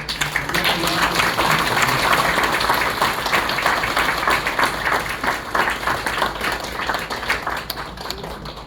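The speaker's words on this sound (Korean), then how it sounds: "우리 큰 박수로 격려해 주시고" Audience applause at a Korean church gathering on reunification, women and peace, a steady dense clapping from a crowd that continues throughout with voices mixed in beneath it.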